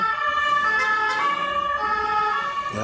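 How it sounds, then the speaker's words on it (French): An emergency vehicle siren wails loud and steady on a street in Paris, its stacked tones holding without pause from start to end, with traffic noise underneath. "Sirène comme d'habitude"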